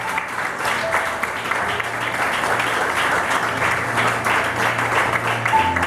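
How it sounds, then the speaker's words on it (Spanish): A church congregation applauds steadily during a Good Friday fasting service, with dense, even clapping that fills the room throughout, and faint voices beneath it. "Den un aplauso a él, por favor."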